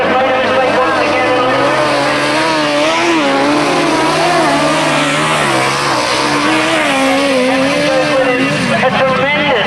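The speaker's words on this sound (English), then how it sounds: "A tremendous sidecar race this one." 1000cc sidecar outfits race on a grasstrack, their engines roaring and wavering in pitch as they rev through the laps, loud and continuous under a commentator's excited voice.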